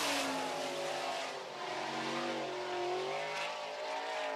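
A sprint car engine at a time-trial race pulls onto the back straightaway, a steady droning whine with slowly rising and falling pitch, heard at a moderate distance and fairly faint.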